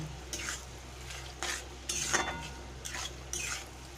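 Lentils being sautéed with spices in a pan for a vegetarian dish with milk and pointed gourd, heard as a spoon stirring and scraping in a few distinct bursts over a faint background sizzle, with no talking.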